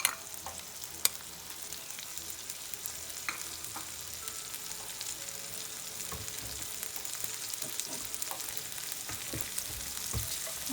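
Beans and spices roast in a pan for a black bean soup, a close, steady crackling sizzle with scattered stirring scrapes and clicks, and no voices.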